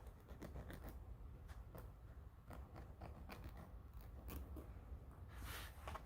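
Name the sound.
nail file filing a press-on nail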